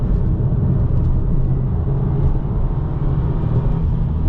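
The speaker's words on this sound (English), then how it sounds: "we're out here on the track in the WRX TS" A 2025 Subaru WRX tS driving on a race track in the afternoon heat, heard from inside as a steady, loud low engine drone and road rumble with no talk over it.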